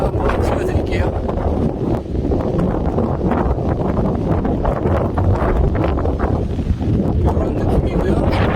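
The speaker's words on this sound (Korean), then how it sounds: "저기 설산 정상으로 바람 정말 세게 붑니다" Strong wind roars steadily across a snowy mountain summit, buffeting the microphone with continuous low rumbling gusts that stay loud for the whole stretch.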